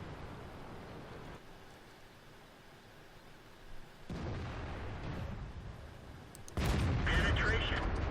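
Tank cannon fire in the World of Tanks game, with the SARL 42 and SU-5 in play: heavy booming shots and rumbling battle noise that swell to a loud blast near the end, with someone talking over the action.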